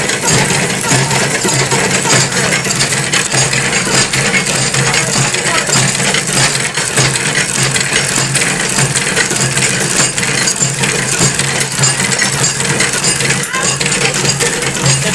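A batasa sugar-drop making machine from Karmakar, Bandel, runs in a steady, dense mechanical drone with a continuous rattling whir that holds at one loud level throughout, with no clear breaks.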